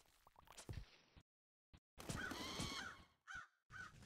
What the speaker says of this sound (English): Get out of here, crows.